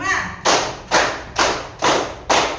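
A fifth-grade primary school class claps in unison as part of a numbered clapping routine, five loud, evenly spaced group claps close by with a chanting voice between them.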